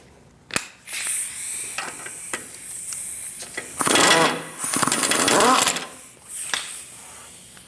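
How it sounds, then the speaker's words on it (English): A socket ratchet turns the wheel hub nut on a 2008-2014 Mercedes-Benz C300 during front wheel bearing replacement, with bursts of fast clicking ratchet strokes separated by short pauses and a sharp metallic knock near the start. "Remove your nut with a 21mm socket."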